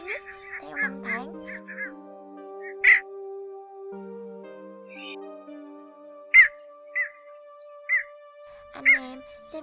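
Recorded calls of black bittern and cinnamon bittern: a series of short, sharp, repeated calls spaced irregularly over a steady low droning tone, clear and fairly close.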